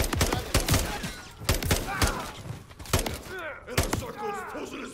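Heavy bursts of close gunfire and shots from a Call of Duty MW3 campaign firefight, rapid and irregular, with shouted voices mixed in among the shots.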